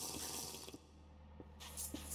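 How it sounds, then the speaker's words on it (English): Water being drunk in a Minecraft modpack, a steady rushing, tap-like water sound over a low hum that briefly thins midway before swelling back, with no talking. "Let's drink some water."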